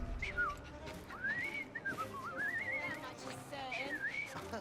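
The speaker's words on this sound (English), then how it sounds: "I've just learned to whistle." A character in Assassin's Creed Syndicate whistles a wavering, rising and falling tune, clear and close, over soft background game ambience.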